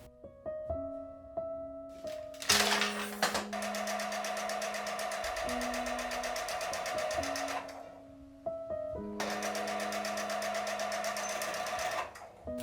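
A sewing machine stitches a pant hem in two long steady runs of rapid needle chatter, separated by a pause with quieter mechanical clicks and hum.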